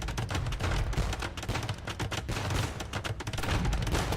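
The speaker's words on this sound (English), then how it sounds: "Falrus just absolutely spamming the heck out of the bombard cannons." Bombard cannons fire in a video game: dense, rapid volleys of heavy booms and cracks overlapping continuously at a moderate level, with no talk.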